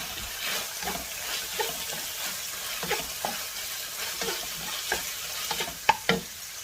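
Capsicum stir-fried for Chinese fried rice, a steady close sizzle broken by repeated scraping stirs of a spatula in the pan, a few sharper clanks near the end, with no talking.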